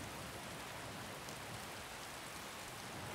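Steady rain falls in the video game Skyrim, a dense, even hiss of drops that fills the whole stretch without pauses or thunder.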